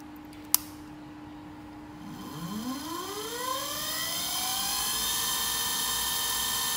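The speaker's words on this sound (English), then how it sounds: "These are two 24V DC motors with 250W per motor." Two 24V DC motors of 250W each start up on a soft-start power supply after a sharp click, their whine rising steadily in pitch as they spin up, then settling into a steady, loud hum.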